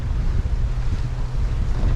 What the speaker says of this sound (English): You get 4, 5, 6 foot high waves, but they're only 3 to 4 seconds apart.